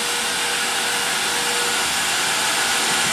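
A burner roars steadily as it heats a plastic sheet for vacuum forming, a loud, continuous broadband rush close by with no breaks and no voices.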